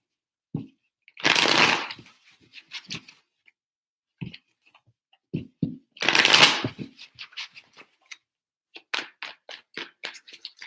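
A deck of tarot cards is riffled in two distinct bursts, close and crisp, with softer handling taps and card clicks around them.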